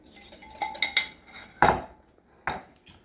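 Slices of French toast flipped on a griddle with a metal spatula: several light clinks and scrapes, then two sharp louder scraping flips, heard close with no talking.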